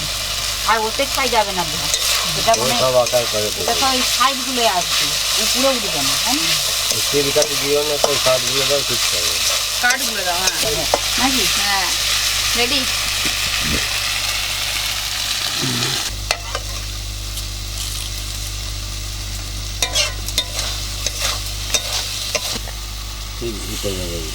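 Ghugni being stir-fried with goat fat, a continuous close sizzle and scraping stir under a voice, with a low steady hum beneath and occasional clatter.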